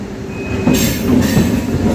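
Secunderabad–Siddipet passenger train of four coaches on a single-line stretch, running with a close rolling roar and brief high wheel squeals rising over the rumble.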